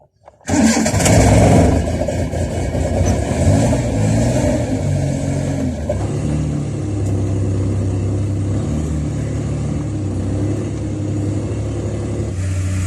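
A car engine cranks and catches with a sudden loud burst, then settles into a steady, close idle rumble that holds for over ten seconds with no talk.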